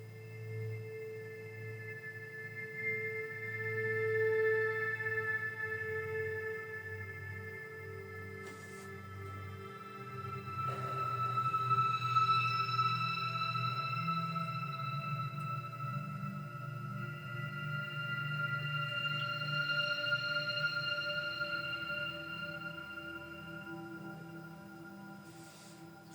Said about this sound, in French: Alors ça c'est le son du logiciel Serum.